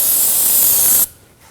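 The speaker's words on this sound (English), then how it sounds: "Using some brake parts cleaner, we're gonna go ahead and spray the area" Brake parts cleaner is sprayed onto the rear brake area of a 2011-2016 Kia Optima during a brake flex hose replacement. A close, steady, high hiss lasts about a second, then cuts off abruptly.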